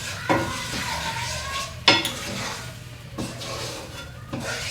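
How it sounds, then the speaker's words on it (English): Shrimp and grits sauce being stirred in a non-stick pan, a soft scraping and sizzling with occasional sharper utensil knocks against the pan, close and continuous. "I'm gonna kind of stir all that together."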